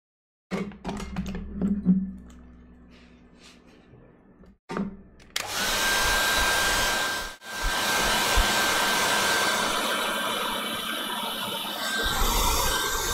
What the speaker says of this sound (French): Le fameux sèche-cheveux canard.